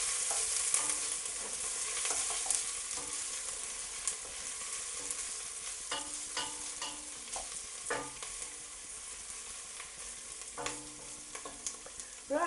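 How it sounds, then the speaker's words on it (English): Onions frying in a pan for a pasta sauce: a continuous soft sizzle with occasional scraping stirs of a utensil, close and moderate in level, with no talking. "the onions have sweated down now. They've started to brown a little bit"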